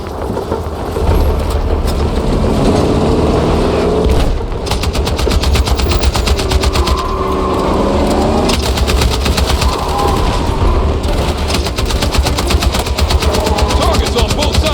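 Rapid automatic gunfire rattles in loud, sustained bursts during a combat mission in the video game Battlefield 6, with a low rumble beneath and faint voices in places, broken by a few brief pauses.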